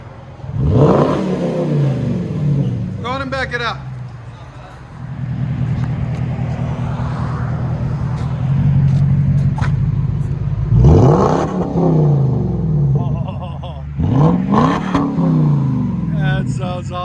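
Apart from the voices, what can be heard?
2009 Jaguar XK 4.2L V8 revving with straight-pipe exhaust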